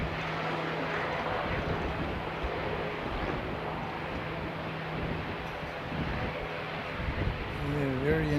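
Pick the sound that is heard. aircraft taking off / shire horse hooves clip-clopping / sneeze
aircraft taking off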